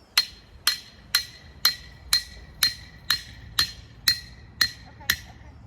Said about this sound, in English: First thing we're going to do is put these T-posts in the ground.